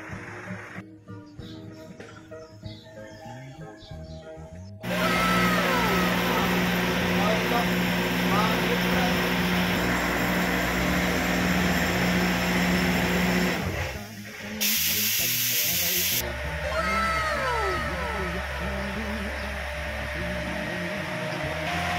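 A pump engine drives water up from a freshly drilled well, a loud, continuous droning rumble with hissing gushing water that starts abruptly and runs on steadily, briefly dipping midway, while people talk nearby.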